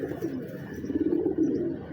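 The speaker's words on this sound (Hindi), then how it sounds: "लंजट कबूतर है ये" Lanjat pigeon cooing, a low throaty rolling coo repeating steadily, fairly close, over a quiet background with no talking.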